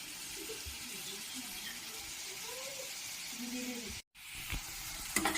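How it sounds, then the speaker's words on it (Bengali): Puffed rice pakoras fry in hot oil with a steady, hissing sizzle heard up close, broken by a brief silent gap before the bubbling resumes with a few stirring clinks. "ভেজে নেব"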